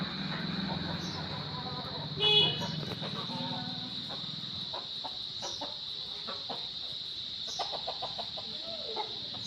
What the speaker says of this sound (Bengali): এই যে এরা হচ্ছে অনেক মোরগ আছে এখানে।